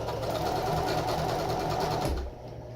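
A sewing machine runs a steady, fast stitch along a folded French seam, whirring loudly and evenly before stopping abruptly near the end.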